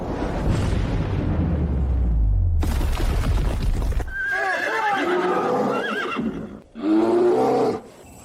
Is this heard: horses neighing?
yes